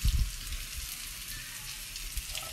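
Oil sizzles in a pan or pot at the start of a vegetarian fish-cake noodle broth. A steady broadband hiss holds through, with a louder burst of crackle at the beginning.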